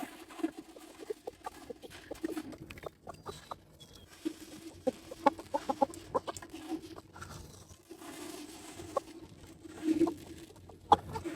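Chickens in a pair of coops cluck and murmur close by, with scattered sharp calls and light scratching and pattering over a quiet background, no talking.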